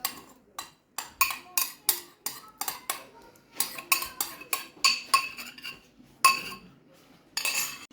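A spoon clinks and scrapes against a bowl as fruit cocktail is mixed in for a dessert, with sharp, irregular metallic taps close by.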